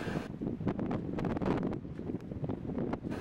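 Steady wind roaring and buffeting across the microphone at sea off San Miguel Island, with gusty rumbling low noise continuing throughout and no voices.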